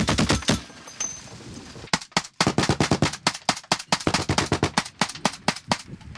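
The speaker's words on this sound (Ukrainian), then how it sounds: "Аби відігнати непроханих гостей, в хід йдуть кулемети." Machine guns fire on a frontline position near the Svitlodarsk arc in eastern Ukraine, with sharp rapid bursts and single shots cracking loudly in an uneven, nearly continuous rhythm.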